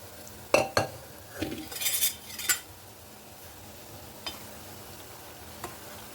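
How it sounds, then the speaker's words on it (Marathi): Semolina stirred and roasted in ghee in a pan: a few sharp spoon clinks and scraping strokes early on, then a quiet stretch with only a couple of faint taps. "आता हा सगळा रवा तुपामध्ये पुन्हा एकदा परतून घेऊ"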